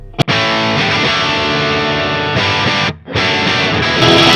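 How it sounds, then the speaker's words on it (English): A distorted electric guitar played through a Marshall amp on its own into a closed-back Vintage 30 cab, loud and sustained chords ringing close, with a brief cut near the start and another before the end. "Listen to the Marshall by itself."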